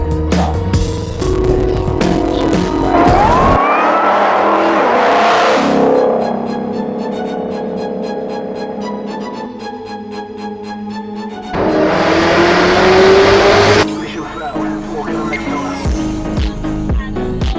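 Supercharged car engine revving hard in loud, rising bursts with a heavy droning tone between the pulls, close and strong, with no talking.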